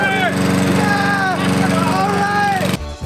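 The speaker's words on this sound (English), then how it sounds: "First person to get their lawnmower started wins." A lawnmower engine runs loud and close with a fast, rough putter, revving unevenly for almost three seconds before cutting out abruptly.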